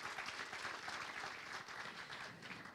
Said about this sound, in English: I will give a big applause to Dato Ng.